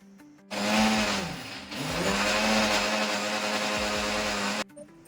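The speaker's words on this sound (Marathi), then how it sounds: "सारं मिक्सरमध्ये काढून घेते" A kitchen mixer grinder loudly whirs as it grinds cashews, almonds, soaked byadgi chillies and salt, starting abruptly, dipping briefly as the load shifts, then running steadily before cutting off.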